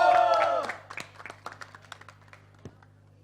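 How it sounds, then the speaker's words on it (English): At a celebrity cricket team launch event, the audience claps for the coach and manager; a speaking voice trails off at the start, then scattered, separate claps follow, thinning out into a few isolated hand claps. "Give our coach and our manager a big round of applause,"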